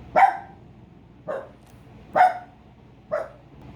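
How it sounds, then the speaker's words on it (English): A dog barks four times, sharp and fairly close, with roughly one-second gaps between barks and no talking. "My dog, excuse my dog."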